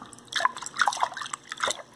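Water drips and trickles onto a hand in irregular splashy bursts, close and moderately loud, with no talking.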